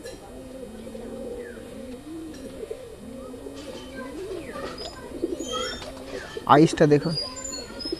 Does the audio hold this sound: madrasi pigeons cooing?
yes